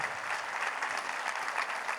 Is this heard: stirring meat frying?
no